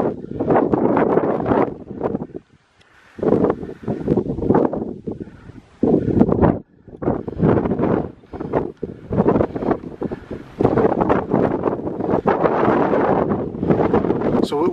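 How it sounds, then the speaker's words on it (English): Strong wind buffets the microphone on a hilltop above the sea in long, roaring gusts with brief lulls between them. A voice speaks under the noise. "it's quite windy at the top"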